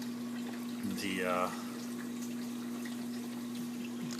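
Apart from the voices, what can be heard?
reef aquarium pumps making water waves in a 4-foot tank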